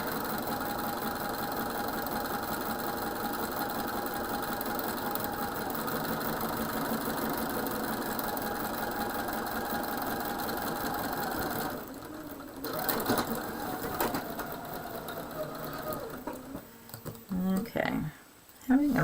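A sewing machine stitches quilt pieces in a steady, close, continuous mechanical whir that runs for most of the stretch, then breaks into short stop-start bursts near the end.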